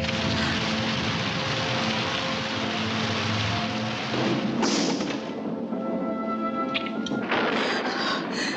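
A film thunderstorm rumbles in a long heavy roar of rain and thunder that fades after a few seconds, leaving scattered sharp cracks and lighter patter.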